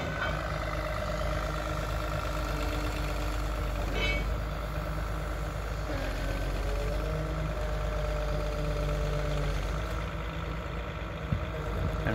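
A truck engine idles steadily at a sugarcane crane loading point, a constant low rumble with faint mechanical tones layered over it, no voices heard.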